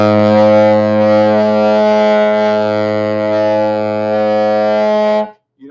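A beginner-style saxophone tone played through a Syos mouthpiece while practicing octave overtones. One long, loud, sustained note holds steady and rich in harmonics for about five seconds, then cuts off. There is no talk.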